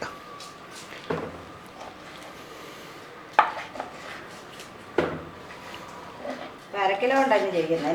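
Beef for Kerala-style mappas is chopped on a board in a few sharp, separate knocks over a low kitchen hum, and someone talks at the end.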